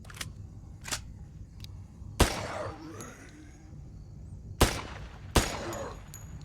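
Gunshots ring out in the zombie FPS Undead City: several sharp, loud single shots at uneven intervals, with a pair close together near the end, over a low ambient game rumble.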